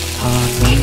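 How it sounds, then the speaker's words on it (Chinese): Pork ribs fry in hot oil in a wok, a loud close sizzle that swells as they hit the pan, with no talking. "锅热了，下油，加入排骨，排骨给它炒到金黄"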